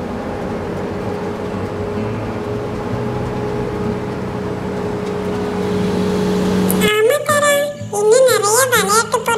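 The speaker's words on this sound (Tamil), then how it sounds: "ட்ரக், ஜேசிபி, கான்கிரீட் போடுற வண்டி எல்லாம் போகுது" Trucks, a JCB and concrete mixer vehicles pass a building site beside a kids' park, a steady engine rumble with a droning hum that cuts off abruptly, followed by children talking nearby.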